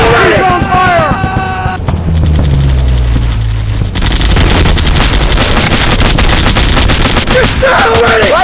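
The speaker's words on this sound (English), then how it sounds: "Suppressive fire on target!" Heavy automatic gunfire in a military video game, loud and relentless bursts with booming low impacts and chattering machine-gun fire throughout, while shouted in-game voice lines break in over the din at the start and end.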